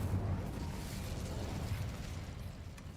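A fire spell, Incendio, cast in Hogwarts Legacy, heard as a dense, steady roaring burst of low rumble that holds at constant loudness for about three seconds with no voices over it.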